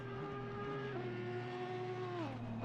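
A race car engine drones steadily in a racing video game at Oulton Park as the car crosses the finish line, with a sustained high revving tone that shifts pitch partway through.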